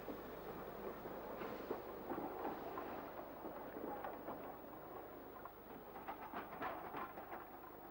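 An ex-North Eastern Railway Y7 tank locomotive hauling coaches out of the Seahouses terminus makes a steady, moderately loud rumble of running train noise with some irregular rail clatter, heard alone without talk.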